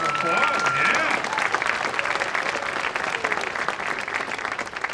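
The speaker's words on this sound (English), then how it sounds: "Let's give them another round of applause." Applause from a junior high winter band concert audience honoring the 6th grade band, dense steady clapping throughout with some crowd noise and a brief voice near the start.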